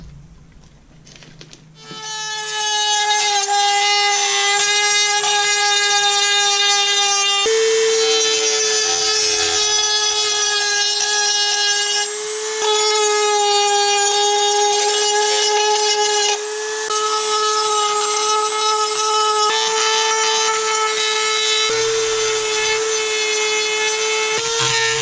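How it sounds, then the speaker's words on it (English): A Dremel rotary tool cleans up the edges of Oracle Afterburner LED tail lights for a 2010-2013 Camaro. Its loud, high, whining grind runs nearly nonstop, shifting pitch as the load changes. "we'll take a Dremel tool and we'll get it cleaned up"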